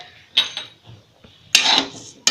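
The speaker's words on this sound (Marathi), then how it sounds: "हे भाजून घेते एक 6-7 मिनिट हलवून चांगले" Dry rice grains roasting in a pan while being stirred by hand: a few scraping clinks near the start, then a louder stretch of rustling scrape at close range, with no talking.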